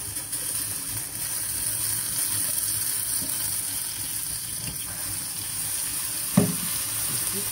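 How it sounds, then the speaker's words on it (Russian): Vegetarian borscht boils hard in a pot with a constant close sizzle and bubbling hiss, broken once by a brief clunk. "Кипит очень сильно."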